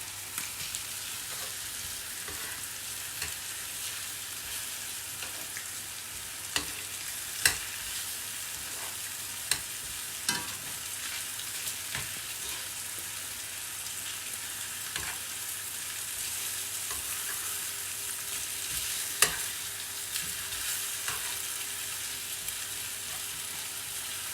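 Chicken breast frying in a pan, a soft, steady sizzle with occasional faint clicks and taps of utensils, low in level and continuing unchanged without any voices.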